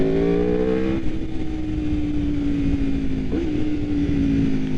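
An Aprilia RSV4 sport motorcycle revs and drops its engine note while riding, a loud close-up engine drone that falls in pitch and then holds steady with a brief shift midway.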